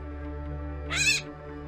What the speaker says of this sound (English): Here's a gray catbird we just took out of the ground trap.